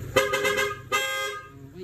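Two loud horn blasts, the first short and the second longer and sustained, bright and close, with nothing else competing.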